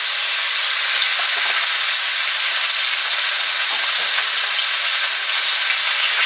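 Meat stir-frying over high heat in a wok with a little extra oil added, a loud continuous sizzle and hiss that holds steady throughout, close by with no one speaking.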